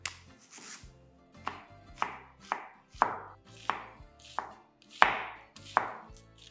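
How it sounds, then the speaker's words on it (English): A knife thinly slices red onion on a cutting board for a Greek salad, making about ten crisp, evenly spaced chops close up, each cut landing with a sharp knock on the board in a quiet room. "Then thinly slice the red onion."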